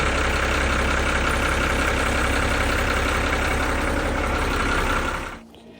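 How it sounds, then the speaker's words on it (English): A boat's engine idles steadily after an oil change on a Great Loop cruise, a loud, even rumble that runs without a break for about five seconds before it shuts off and cuts out abruptly. "He turned on the engine to check for leaks and make sure all looks good."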